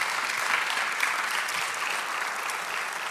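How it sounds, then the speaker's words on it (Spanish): A church congregation applauds during a sermon, giving a continuous, even wash of clapping at moderate, slightly distant volume with no talking on top. "Del aplauso al Señor."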